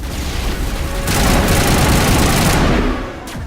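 Loud gunfire and a grenade blast from the Mass Effect video game, a continuous dense rattle of shots swelling into a heavy booming explosion midway, then fading, with no talk.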